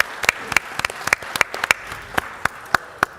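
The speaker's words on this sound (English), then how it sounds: "Let's give a round of applause to the students of the Paterson Charter School for Science and Technology." Sparse, loud applause at a Paterson, New Jersey city council meeting for charter school students, a handful of distinct close claps spaced irregularly rather than a full crowd roar.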